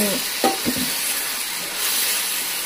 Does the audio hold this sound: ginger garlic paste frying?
yes